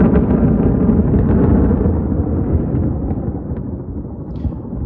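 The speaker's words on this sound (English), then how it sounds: "There's a thunderstorm coming." Deep rolling thunder from an approaching thunderstorm, a loud, continuous low rumble that slowly fades over several seconds with no voices.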